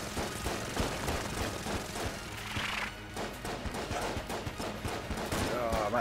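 Rapid gunfire in the roguelike shooter Enter the Gungeon, dense overlapping shots and game effects in a busy, continuous barrage, with a player talking over it.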